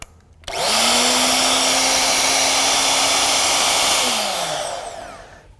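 An American Sanders Compass floor edger, a lightweight 10-pound machine, runs with a loud steady whine over broadband sanding noise. Its pitch sags slightly at the start, then it spins down at the end.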